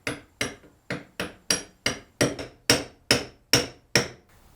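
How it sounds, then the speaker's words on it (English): A brass mallet taps a steel saw blade clamped for straightening on a pre-WWI saw, about a dozen sharp, evenly spaced metallic strikes ringing briefly and growing slightly louder, close and alone. "This is a brass mallet"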